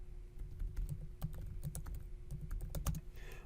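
Keys on a computer keyboard clatter in steady, irregular taps, close and fairly quiet, with no talking.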